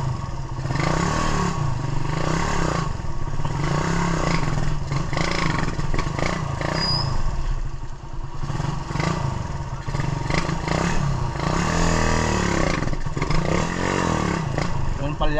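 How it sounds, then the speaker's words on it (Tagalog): Raider 150 motorcycle engine running rough and misfiring, a steady loud idle with uneven sputtering and small surges throughout, close by, with faint talk mixed in. "Medyo pumapalya pa, kaya kailangan pang kunting tono pa."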